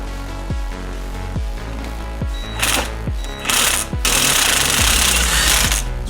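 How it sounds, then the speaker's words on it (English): Impact gun hammering the screw rod of a bushing puller to press control arm bushings out of a Miata, loud rattling bursts growing longer and more intense against a steady workshop hum, no speech. "We use an impact gun here, but it tends to rattle the puller apart, which is kind of dangerous"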